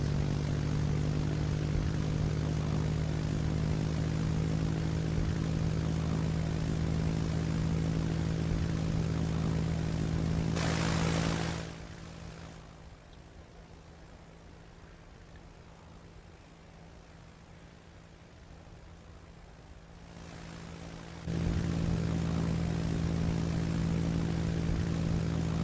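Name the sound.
triplane engine landing, from Roblox video game Aeronautica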